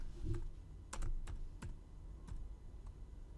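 Someone types on a computer keyboard while working in Adobe InDesign, a few scattered, soft clicking keystrokes at an irregular pace in a quiet room.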